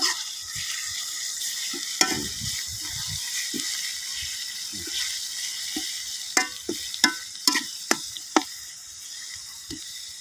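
Bird meat sizzles as it is stir-fried with basil in a pan, a steady close frying hiss punctuated by sharp clacks of the utensil scraping and tapping the pan.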